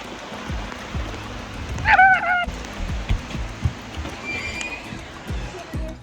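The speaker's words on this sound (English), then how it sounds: "it's pouring rain. Can you hear it?" Heavy rain pours down in a steady hiss, with a brief honking call cutting through partway and scattered knocks.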